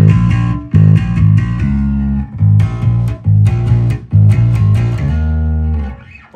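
Bass guitar played through an MXR bass preamp set to drive distortion, heavy low notes in a loud, steady riff with short breaks between phrases.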